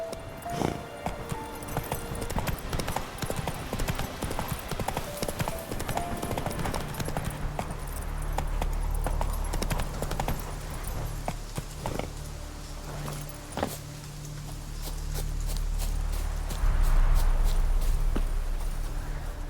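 Horse hooves clip-clop at a steady walking rhythm as a rider travels in The Witcher 3, joined partway through by a low droning ambience, with no voices heard.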